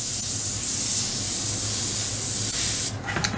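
An airbrush sprays thinned paint onto a scale model of a WW2 German Sd.Kfz.251 half-track, giving a steady close hiss for about three seconds before it stops.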